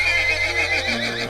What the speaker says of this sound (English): when he suddenly neighed and backed away